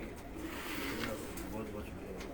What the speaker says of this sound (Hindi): बहुत आउट क्लास कबूतर है